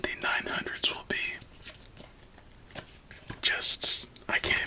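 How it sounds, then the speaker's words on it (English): A deck of playing cards is shuffled close up in a quiet, intimate setting, with crisp riffles and soft snapping bursts repeating under occasional whispered speech. "as we finish shuffling up our deck for the first game"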